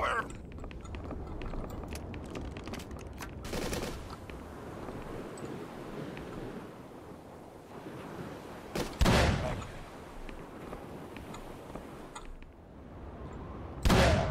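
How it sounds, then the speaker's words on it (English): Gunfire in Call of Cthulhu: Dark Corners of the Earth, with several loud sharp blasts standing out over a constant noisy rushing background; a voice speaks in places. "Guns blazing around."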